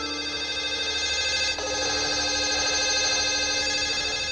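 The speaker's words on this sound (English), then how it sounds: "I cannot stand the ringing of the phone anymore." A telephone rings steadily and loudly at close range, a continuous bright electronic tone filling the room with no voices.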